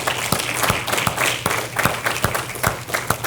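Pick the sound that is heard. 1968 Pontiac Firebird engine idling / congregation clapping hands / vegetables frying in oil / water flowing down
congregation clapping hands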